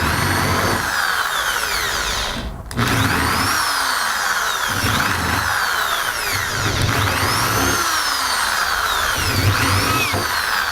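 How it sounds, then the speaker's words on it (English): A power drill with a screw-set bit whirs in repeated bursts, its pitch rising and falling as the bit bites into wood drilling screw holes, with a short pause partway through. "the next step is the screw set drill bit."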